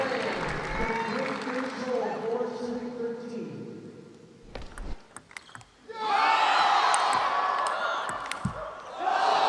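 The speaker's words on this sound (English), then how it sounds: "How did Lachine, a premature cheer from the crowd, get those smashes back?" Crowd at a Major League Table Tennis match between Bay Area and Portland breaks into loud cheering and applause midway through a wild rally, with a quieter stretch of crowd noise and ball sounds beforehand and commentary under it.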